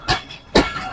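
A passenger train pulling away from Dahar railway station after a two-minute stop, with two loud broadband rushing bursts rising over a steady low rail rumble nearby.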